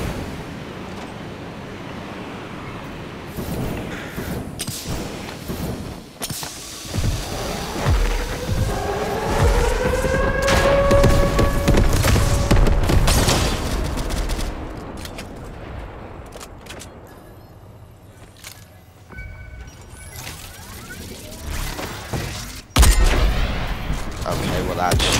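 Airstrike explosions and gunfire in the Fortnite video game, a dense run of loud blasts and bursts that build through the middle, ease off, then return with a sharp late hit, with talk mixed in.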